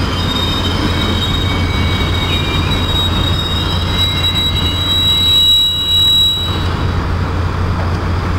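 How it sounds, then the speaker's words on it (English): A diesel-hydraulic locomotive train passes with a steady broad rumble of wheels on rail and thin high squeals from the wheels, fairly loud and close, with no talk. "Very quiet locomotives these are."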